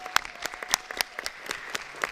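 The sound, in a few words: audience round of applause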